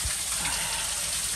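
Steady broadband hiss of a pressure-washer water spray rinsing a vehicle trailer chassis outdoors, continuous and fairly close with no pauses.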